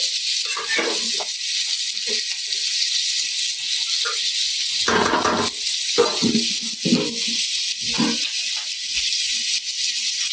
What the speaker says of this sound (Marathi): गरम पाणी आहे आपण त्यात ओतणार आहोत.